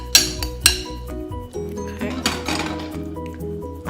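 Lao chicken larb salad is tossed in a bowl, with two sharp clinks of a utensil on the bowl at the start, then wet squishy mixing and lighter clatter, close and without talk.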